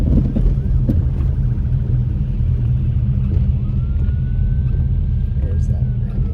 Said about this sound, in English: Where's that ambulance going?